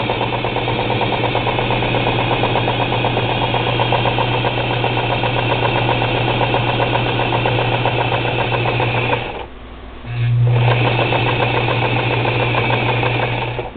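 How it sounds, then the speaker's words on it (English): A sewing machine running at a wheelchair-friendly sewing table, a loud, steady mechanical hum and rattle close by that stops briefly near the end and then starts up again. "a machine will or will not sew straight by itself"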